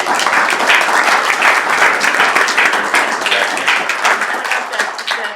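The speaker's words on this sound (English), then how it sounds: "So let's give them all a big round of applause." Steady, loud applause from a meeting audience at a public works board session, many hands clapping densely and evenly for about five seconds with no talk over it.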